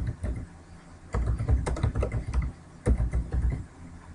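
Rapid bursts of keyboard typing on a computer as a campaign title is entered, close and fairly loud, clustered keystrokes with short pauses between bursts and no voices.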